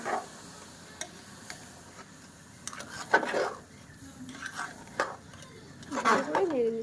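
Ginger garlic paste and spices are stirred in a pan with scattered scrapes and knocks of a spoon against metal over a faint sizzle, while a voice talks intermittently.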